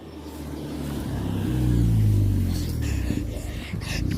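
A car drives past outdoors, its engine noise swelling to a peak around the middle and then easing off, with voices and a child-like shout mixed in over the low rumble.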